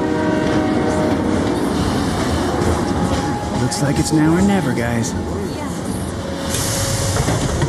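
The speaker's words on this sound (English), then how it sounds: "Miss this train and there's no telling when the next will be." A train in Final Fantasy VII Remake rumbles loudly and continuously with a sustained horn blast, while game characters talk over it.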